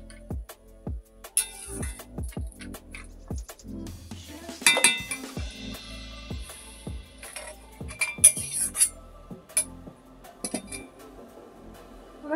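A pot of boiled drumstick flowers is lifted off a kitchen stove, with a run of sharp metallic clinks and knocks from the utensils and pot, some fairly close and loud, spread through the stretch with no talking.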